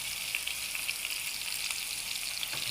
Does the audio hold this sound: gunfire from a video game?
no